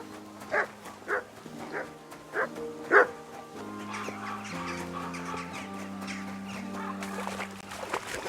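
A dog barks in short, separate yelps, five of them spaced about half a second apart, in the medieval game Kingdom Come Deliverance 2. Sustained game music plays underneath and carries on after the barking stops.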